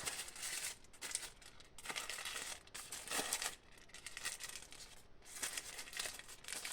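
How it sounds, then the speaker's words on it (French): Tissue paper crinkling as it is wrapped around a drinking straw while making a paper flower, close-up and fairly quiet, with irregular bursts of rustling and brief pauses between them. "glisser un petit peu le papier"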